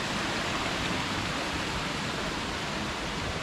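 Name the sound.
Sengkuang waterfall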